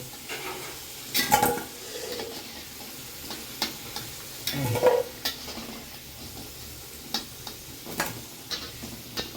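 Large pieces of potato fry in oil in a pan, a soft continuous sizzle under intermittent spatula scrapes and clinks, with a couple of louder stirring bursts near the start and middle; no speech.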